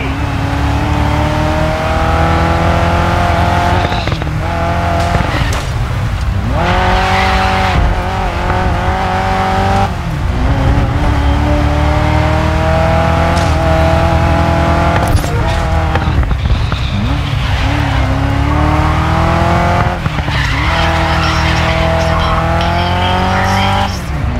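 Ford GT40 race car in the video game Grid Legends, its engine roaring loud and steady throughout with repeated revving rises and gear changes, tire squeal and skids cutting in, a voice talking faintly underneath.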